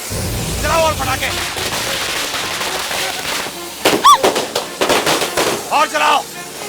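Firecrackers being set off in a film scene give a string of sharp pops and crackles, with several louder bangs near the middle, mixed with voices and a whistling streak; moderately loud throughout.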